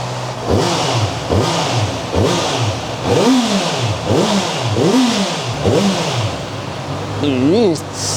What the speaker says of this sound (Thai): ผมจะมาสตาร์ทรถให้ฟังนะครับผม